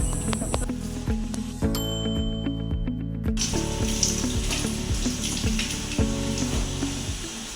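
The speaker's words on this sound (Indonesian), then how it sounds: "Jangan biarkan air mengalir terus." Water running from a tap, a continuous hissing splash under a tonal musical background with a repeating rhythmic pulse, steady and moderately loud throughout, no talk.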